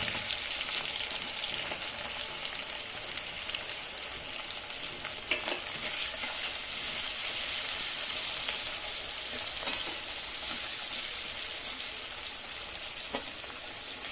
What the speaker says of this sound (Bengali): লালচে করে এবার ভেজে নেব